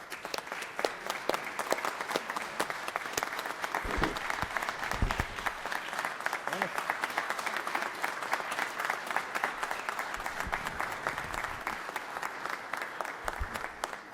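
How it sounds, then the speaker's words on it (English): Sustained applause fills the Georgia Senate chamber during a 2023 session, a steady dense patter of many hands lasting throughout with a few low thumps underneath. "please just give him a round of applause"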